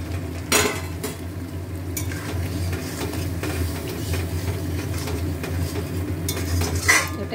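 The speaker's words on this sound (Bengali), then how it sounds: "এবারে পনিরগুলো দিয়ে দিচ্ছি।" Cream paneer is stirred into cooked spinach in a pan, with a utensil scraping and clinking against the metal in repeated close strokes over a soft background sizzle.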